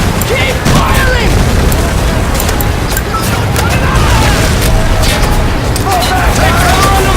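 Gunfire and explosions from the Medal of Honor Pacific Assault game form a loud, dense battle din of booms and rapid shots, with shouted voices mixed in throughout.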